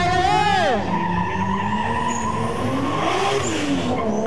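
Race car from Khon Kaen sliding sideways at a pickup-slide motorsport event, tires screeching loudly over a roaring, revving engine, with a commentator talking throughout.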